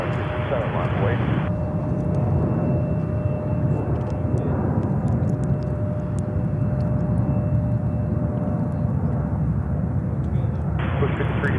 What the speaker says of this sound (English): We have a 777 waiting for takeoff here on runway 31 center.